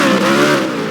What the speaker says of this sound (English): He's currently revving, and I cannot hear anything.